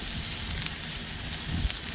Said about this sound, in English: Get our onions in this oil over here. Let it pop, snap, and sizzle at us.